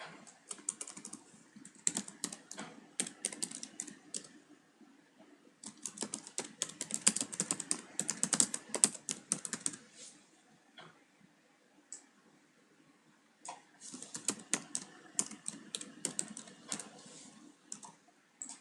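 Fingers tap quickly on a computer keyboard in close, crisp clicks, with rapid runs of keystrokes broken by brief pauses.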